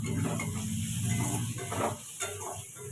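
Onion frying in a pan with a pinch of black cumin tempering, a continuous hissing sizzle close by, with occasional utensil stirring clinks and no voices.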